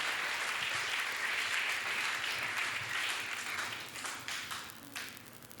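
A church congregation claps together in applause for the Lord during a worship service, a steady, fairly loud wash of many hands that thins out slightly toward the end.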